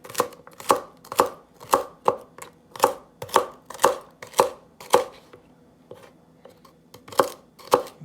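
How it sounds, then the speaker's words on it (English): A knife chops vegetables steadily on a cutting board, crisp sharp thuds in a regular rhythm with a brief pause, close and clear without any talking. "Now I'm just chopping this stuff."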